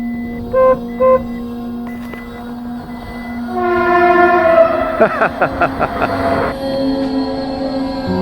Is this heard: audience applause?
no